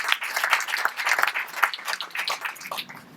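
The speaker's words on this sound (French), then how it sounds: "je vous remercie d'applaudir évidemment Monsieur Hulot" An audience at a talk honouring environmental campaigner Nicolas Hulot claps in a lively, uneven round of applause, individual hand claps audible at moderate distance.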